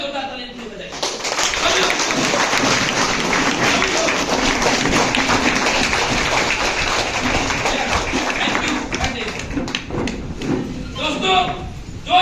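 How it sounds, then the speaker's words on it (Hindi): Audience at a Highrich seminar in Dumka standing and applauding loudly, a dense continuous roar of clapping lasting many seconds at close range, with a voice speaking over it. "एक बार सभी लोग खड़े होकर जोरदार ताली बजाएं।"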